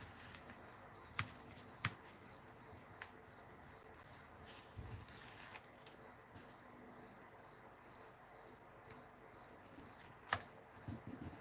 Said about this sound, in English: I think that cricket's getting tired. He sounds sleepy.